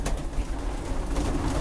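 Pigeons coo in a loft during winter, a low soft cooing over a steady murmur of birds close by, continuous throughout with no talking.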